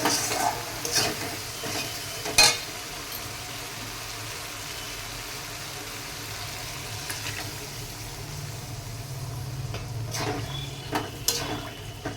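Spices fry with a steady sizzle in a pan as paneer and its soaking water go in, bringing a few sharp clatters and splashy bursts over the continuous hiss.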